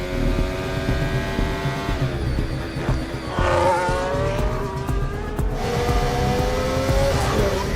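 A Formula 1 car on a Grand Prix's final lap, its engine droning loud and steady with pitch sweeping up and down through gear changes, a continuous roar throughout.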